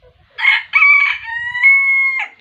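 A single Bantam rooster crows close by, a loud, drawn-out cock-a-doodle-doo lasting about two seconds.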